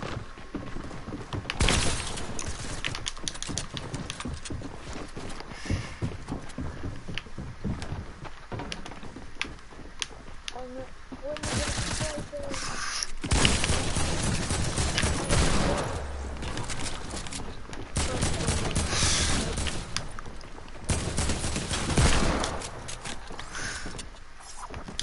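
Rapid bursts of video game gunfire from a monster enemy crackle through the whole stretch, dense and loud, with brief lulls between volleys.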